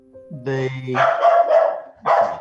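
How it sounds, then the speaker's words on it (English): A pet dog barks excitedly at an arriving postman, a quick burst of loud nearby barks and yelps right after someone speaks, with a final bark after a brief pause. "Postman's arrived. The dog's going crazy."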